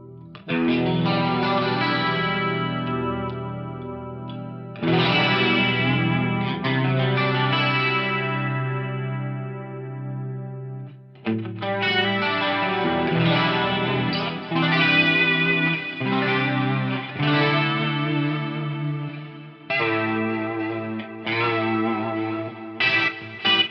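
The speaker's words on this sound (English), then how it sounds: "I'll turn my mic off so you can just hear the guitar" A clean electric guitar plays shimmering chords with a wide, wavering chorus and detune effect, sustained and close with no voices.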